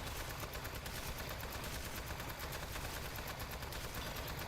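Turrets firing in the Aperture Desk Job video game, a dense, continuous stream of rapid gunfire with no break.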